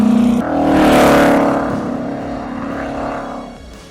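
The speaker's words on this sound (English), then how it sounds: "The straight-eight engine produces a unique sound that's somewhere between a race car and" A big straight-eight car engine revs up and holds a rich, throaty roar, then eases down slightly while still running strong and close by.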